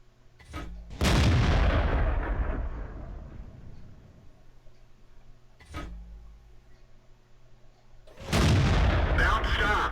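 A Panther Tier VII medium tank in the video game World of Tanks firing and taking hits, heavy cannon booms with long decaying rumbles, a sharp metallic crack of a shell striking armor between them, close and loud.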